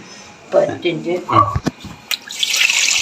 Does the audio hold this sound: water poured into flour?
yes